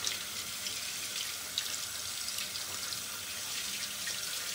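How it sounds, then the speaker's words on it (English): Water runs steadily from a tap as a synthetic silver tip fiber shaving brush is rinsed, a continuous close splashing hiss with faint drips; no talk. "Rinse that out."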